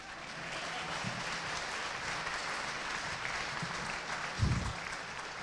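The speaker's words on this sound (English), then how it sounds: "Thunderous applause." Applause from the audience at a Cumberland University event, a steady dense wash of clapping holding for several seconds, with a brief louder thump near the end.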